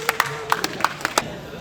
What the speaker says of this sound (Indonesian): Yuk, beri tepuk tangan untuk kelompok 6.